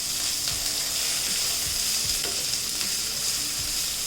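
Onion masala for prawn fry sizzles steadily in a pan, a close, continuous hiss of frying broken by soft scraping stir strokes roughly every half second.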